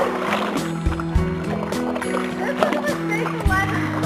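Oars or a paddle working a small rowboat on open water, with soft splashes and sloshing strokes at an irregular rhythm under steady voices talking nearby.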